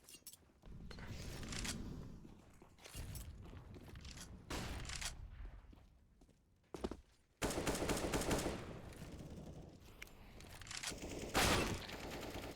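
Counter-Strike gunfire in a competitive match: repeated bursts of rapid rifle shots with short pauses between volleys and a heavier sustained spray near the end, all fairly quiet and without talk.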